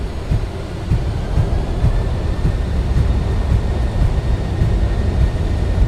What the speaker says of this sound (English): Reversers are deployed.